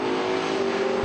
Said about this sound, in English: that, of course, is a Rambler with a 390, 350 horse engine